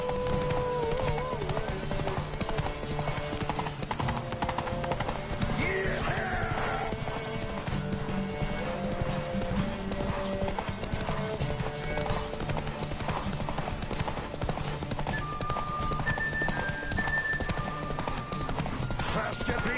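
Roach, a horse in The Witcher video game, gallops with rapid rhythmic clip-clop hoofbeats that run continuously under game music, with speech over them and a brief whinny.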